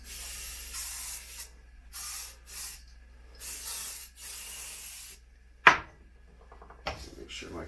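Cork rubbed over liquid Rex wax on an alpine ski base gives soft, close hissing swishes in repeated strokes of about a second each, with short pauses between, then a brief sharp knock near the end.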